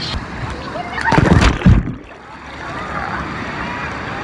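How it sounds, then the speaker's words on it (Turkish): Rough ocean waves crash and splash at a beach in Rio, a loud surge of water peaking midway before settling into a steady wash, with a voice speaking over it. "Hakikaten deniz öyle bir dalgalı ki böyle."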